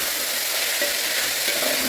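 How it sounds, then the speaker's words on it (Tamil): Chopped vegetables sizzle steadily in a hot pan, a continuous bright crackle with light stirring scrapes, close and without talking. "எல்லாத்தையும் நம்ம நல்லா வதக்கிக்கலாம்"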